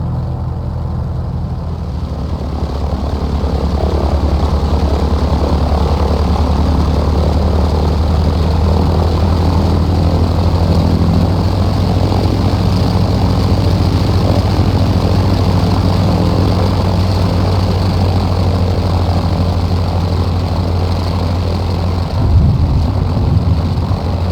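Grumman F4F Wildcat radial engine in Microsoft Flight Simulator, a loud steady low drone with a constant propeller hum while taxiing, holding evenly throughout before a brief change near the end, with no talk.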